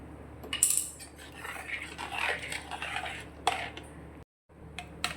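Mutton bone soup being stirred in a metal pot with a utensil, giving repeated close scraping and clinking against the sides over a steady background, with one short gap near the end.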